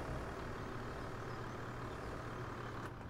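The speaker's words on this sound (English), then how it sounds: "I like the way this truck moves when it's loaded." A loaded truck drives in the Farming Simulator 17 video game with a continuous dense engine drone and rumble at steady loudness, heard alone without any voices.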